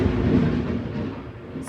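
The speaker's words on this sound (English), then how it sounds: "If you just heard that loud crash of thunder." A loud, close crash of thunder rolls and rumbles for a moment before slowly fading, deep and broad, with no voices over it.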